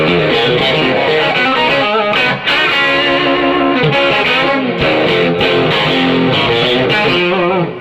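Distorted electric guitar plays continuously through a Boss ME-70 into a Granger 200-watt amplifier, dense and loud with a brief dip midway, no voices present.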